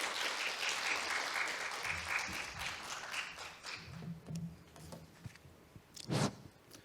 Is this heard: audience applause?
yes